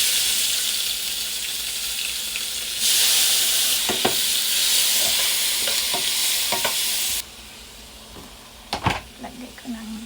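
Garlic fries in olive oil with a loud, bright sizzle that swells and then cuts off, broken by scraping stirs and clinks from a utensil against the pan.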